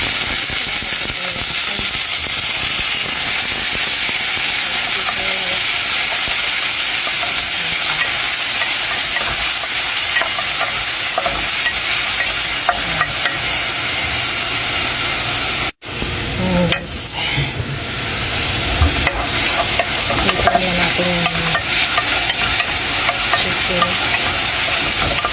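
Sauce fries in a pan with a loud continuous sizzle and hiss while a utensil stirs it, the sizzling dropping briefly midway before resuming with clattering stirs and scrapes.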